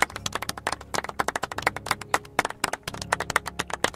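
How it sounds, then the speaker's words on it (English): A scattered round of clapping from a few people, with quick, uneven claps running steadily throughout at moderate level. "A special round of applause for Jesus."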